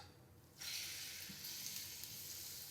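Ground spinach paste drops into hot oil for a spinach thokku, starting a sudden bright hiss partway in that holds as a steady, fairly quiet sizzle with no talk.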